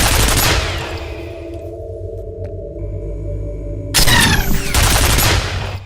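Loud gunfire in FEAR, aimed at a ceiling-mounted gun: dense bursts of shots open and close the stretch, with a tonal humming drone holding in between.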